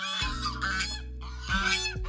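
Geese honking loudly and close at a family outing on Pakistan's Independence Day, two long harmonic calls separated by a short break, with no one talking over them.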